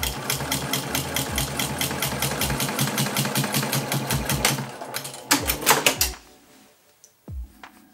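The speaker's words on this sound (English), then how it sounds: "putting the right sides together and then sewing a 1/4 inch seam allowance" A sewing machine stitches denim pieces right sides together with a quarter-inch seam, running in a fast, loud, steady mechanical chatter up close, then slowing into a few separate bursts before stopping.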